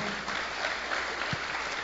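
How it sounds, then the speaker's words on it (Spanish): A crowd claps steadily in a reverberant hall at a church service, a dense wash of hand claps at moderate loudness, with no one speaking over it. "Denme un buen aplauso al Señor."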